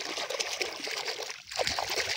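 Hands being washed in clean borewell water outdoors, with steady splashing and trickling running throughout, close and fairly loud.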